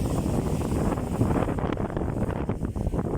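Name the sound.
strong wind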